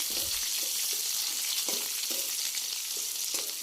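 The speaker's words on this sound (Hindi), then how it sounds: "पियाज को भल भाव ब्राउन कलर होगा पर्यंत भाजिबा।" Chopped onions fry in mustard oil with cumin seeds, giving a steady, close sizzle with light crackles and a few soft stirring scrapes.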